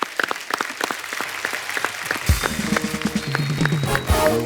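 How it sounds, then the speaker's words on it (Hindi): Studio audience applause on a Hindi television comedy talk show, a burst of close, crisp clapping that carries on with a busy murmur of crowd noise and some music-like tones underneath. "इस बात के लिए तालियां होनी चाहिए।"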